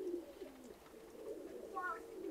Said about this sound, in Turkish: Yüksek uçucu tip bangolar.